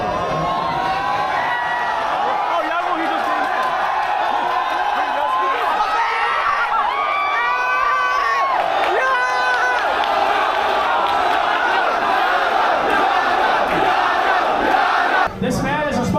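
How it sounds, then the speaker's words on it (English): A large crowd of fans at a HoloLive event in America cheers and shouts continuously, with loud whoops and excited yelling in a dense, sustained roar close around the listener. "You can hear the crowd cheering and going nuts"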